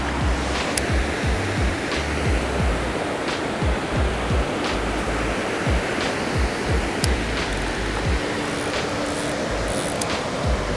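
Loud, constant roar of water rushing over a large spillway waterfall at a fishing spot, dense and unbroken throughout, with occasional low thumps and faint splashes beneath the steady wash.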